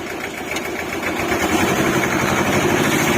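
Diesel engine of an Iseki TS2202 4WD compact tractor, an older Japanese machine, running steadily as the gears are shifted through, a loud close continuous mechanical drone that swells slightly after the first second.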